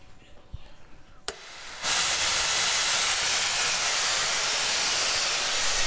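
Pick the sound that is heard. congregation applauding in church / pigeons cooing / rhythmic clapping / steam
steam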